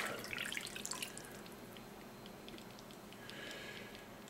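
Water drips and trickles faintly into a brine container freshly filled with cold water, soft irregular plinks over a low steady wash, with no voices.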